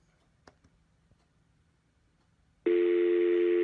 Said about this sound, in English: And there we have our dial tone.